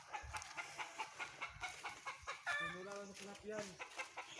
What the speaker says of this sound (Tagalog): Yung mga chicken namin guys.